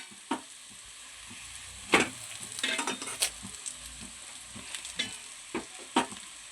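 Rice is stirred and fried in a pan, with a soft sizzle broken by scattered scraping clinks of the spoon against the pan, close and fairly quiet.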